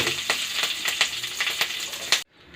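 Green chillies sizzling and crackling in hot oil for Rayalaseema garlic chicken, a loud, close, continuous spatter with sharp pops, ending abruptly after about two seconds.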